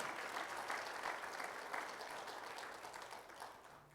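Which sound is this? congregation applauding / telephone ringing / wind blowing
congregation applauding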